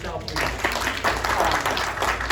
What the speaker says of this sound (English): One more huge round of applause for Michele